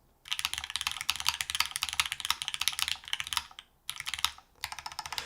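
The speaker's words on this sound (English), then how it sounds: "I'm not very good at typing on this" Rapid, steady keystrokes on a tented split mechanical keyboard, close and clear, running in dense bursts with two short pauses between them.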